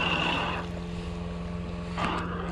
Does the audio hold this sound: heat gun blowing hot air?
no